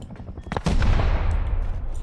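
Gunfire and an explosion in the survival video game Rust: a few sharp shots, then a loud, booming blast at about two-thirds of a second that rumbles on and decays through the rest of the clip, with no talk.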